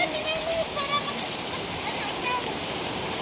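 Steady rain falls in a dense, continuous hiss, loud and even throughout, with faint voices of children and adults in the background.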